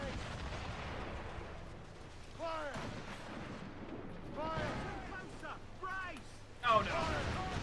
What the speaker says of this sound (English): Oh my god, I'm being bombarded